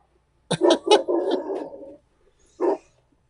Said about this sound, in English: The guard dog has been alerted to something.